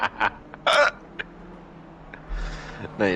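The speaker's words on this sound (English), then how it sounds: "I've got hiccups now" A few sharp, abrupt hiccups jump out in quick bursts, loud and close, with quiet breathy pauses and a faint background hum between them during a sim racing session.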